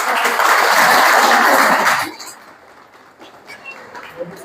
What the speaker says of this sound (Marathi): प्रणयासाठी पुन्हा एकदा जोरदार टाळ्या होऊ द्या